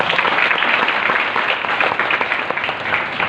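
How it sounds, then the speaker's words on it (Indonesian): A crowd claps in a dense, loud burst of applause that continues evenly throughout, with no talking. "Tepuk tangan dulu dong."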